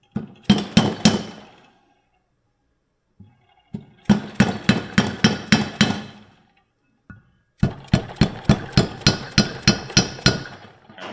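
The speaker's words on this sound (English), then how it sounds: "smack them with the socket and hammer" A hammer strikes a socket to press valve seals onto the stems of a junkyard engine's cylinder head, in three close bursts of rapid, ringing metallic taps separated by short pauses, with no talking.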